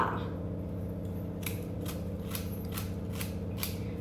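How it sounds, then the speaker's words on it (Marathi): An onion is sliced with a knife, giving a steady series of crisp chopping clicks about every half second over a constant low background hum. "मी कापतीये कांदा"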